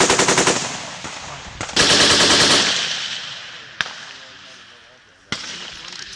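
A U.S. Army machine gun fires in several loud, rapid bursts at close range, each rattling string of shots echoing and fading out, with single sharp cracks between.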